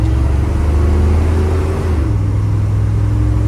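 A 1978 Ford F250 XLT Ranger 4x4 pickup with a 460 V8 and C6 automatic transmission drives with a steady, loud engine drone that eases briefly as the gearbox shifts, then carries on without voices.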